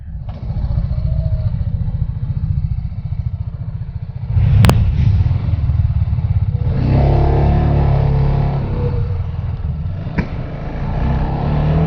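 A 2021 Benelli 600i motorcycle roars past on the road, its engine loud and continuous, revving harder near the middle of the pass and holding a strong steady drone throughout.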